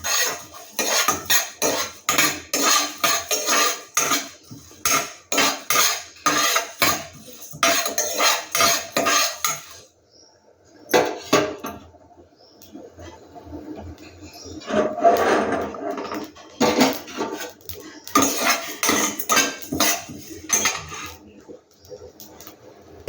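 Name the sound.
dry-roasting coriander seeds and cumin in a pan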